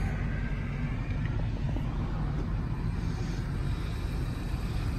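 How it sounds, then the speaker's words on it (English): A 2016 Ford F-150 King Ranch pickup idles after a push-button start, a steady low rumble held evenly and moderately loud throughout, with no voices. "Push button start."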